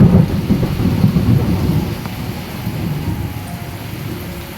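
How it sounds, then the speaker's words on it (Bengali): Heavy downpour during a thunderstorm, a steady dense hiss of rain with a low rumbling roll of thunder fading out near the start; no voices. "মুষলধারে বৃষ্টি চলে এসেছে"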